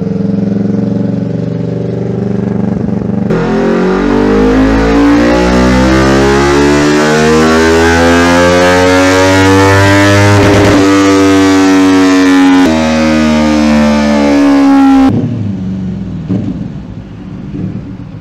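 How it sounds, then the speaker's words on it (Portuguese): A Kawasaki Ninja 400 motorcycle fitted with a sports air filter revs on a dyno, its loud engine note climbing steadily in pitch through a long pull before dropping back, with no talk over it. "passando no Dina. Kawasaki Ninja 400."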